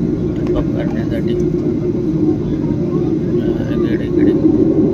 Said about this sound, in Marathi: या साईडला एक विमान चाललं आहे इंडिगोचं टॉप करण्यासाठी